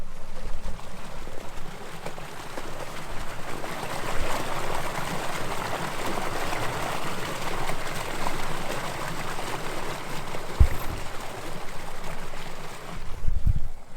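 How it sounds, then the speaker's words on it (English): A river flows unseen in a forest during a summer bushcraft camp, a steady broadband rush of water running continuously, with a couple of low thumps near the end and no talking. "We've just come across the sound of a river that we can hear it, but we can't see it."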